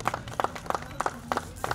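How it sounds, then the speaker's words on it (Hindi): An audience claps at a book release event, with light rhythmic applause in evenly spaced bursts that sound like a smallish crowd clapping together. "16 श्रृंगार के लिए एक बार जोरदार तालियां।"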